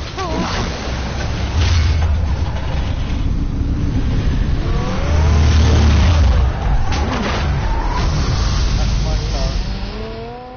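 Car engine revving and roaring in the game Batman: The Telltale Series, loud and close. The engine swells and pulls away, with voices talking over it.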